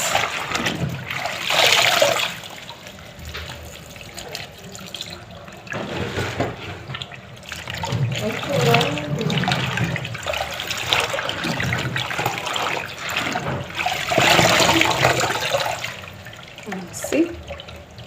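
Running water splashes and trickles continuously during washing in a Kenyan home kitchen while cooking authentic African food, swelling louder at moments, with voices talking over it.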